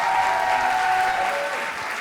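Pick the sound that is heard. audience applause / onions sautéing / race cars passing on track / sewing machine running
audience applause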